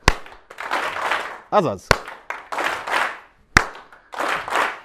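Audience applause in a Hungarian talk on cooperation, bursting out in several short rounds of clapping, some tight single-clap hits in unison, alternating with a presenter's speech between the rounds.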